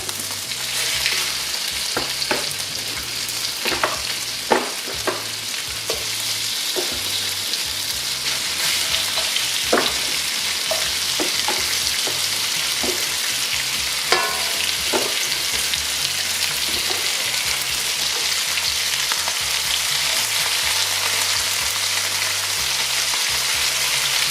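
Lamb pieces browning in a hot pan for a Polynesian-style curry, steady loud sizzling and frying with occasional scraping stir sounds, close up and without talk.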